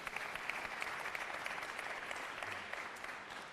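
An audience at a town hall event with Mayor de Blasio claps in response to news about affordable housing, a quiet, even patter of many hands sustained from start to finish.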